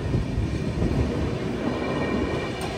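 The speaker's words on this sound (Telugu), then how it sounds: "125 km/h క్రూజింగ్ స్పీడ్లో రన్ అవుతుంది మన ట్రైన్" A superfast express train from Bengaluru to Guwahati cruising at 125 km/h past Annavaram station, heard from inside a modern coach as a steady, loud low rumble and rattle of wheels on track.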